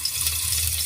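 Water poured into rice in a pressure cooker along with salt in a home kitchen gives a steady, even splashing rush that holds at a moderate level throughout, close by and alone without talk.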